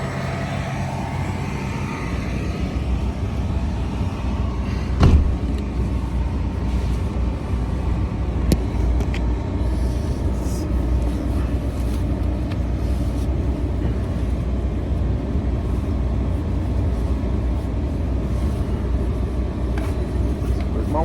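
Interior of a car driving after a sound-deadener install, a steady low road rumble and hum filling the cabin, with a couple of brief bumps and a voice speaking at times.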